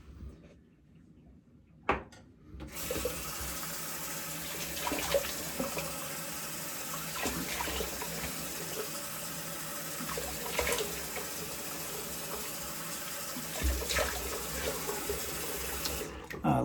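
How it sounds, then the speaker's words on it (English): A bathroom tap runs steadily for a face wash after shaving, a continuous hissing stream close by with small splashes and shifts as hands move through the water, preceded by a sharp knock as it turns on. "So I'm gonna go ahead in here and wash off the face,"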